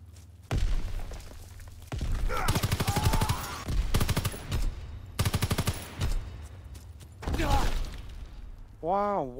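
Rapid bursts of automatic gunfire and booming shots in a WW2 shooter video game, dense and loud in several volleys, with a voice speaking in between.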